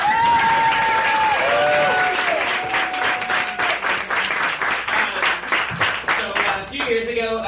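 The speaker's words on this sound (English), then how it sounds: "Let's give her a round of applause." Audience at a live storytelling game show breaking into a round of applause, loud dense clapping with some cheering voices throughout, sustained and close.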